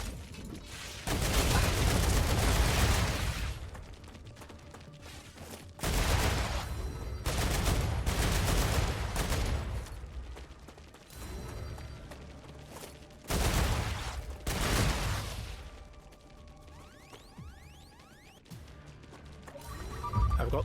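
Bursts of gunfire from the video game StarRupture come in loud, dense volleys separated by quieter lulls, rapid and sustained, close, without talk.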